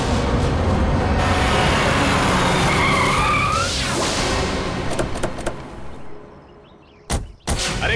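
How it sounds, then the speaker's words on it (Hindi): A car skids to a sudden stop on a street, a loud tire squeal sweeping over engine rumble for several seconds before fading, followed by a couple of sharp thuds like a door. "अरे गाड़ी क्यों रोक दी, देख के चला ना।"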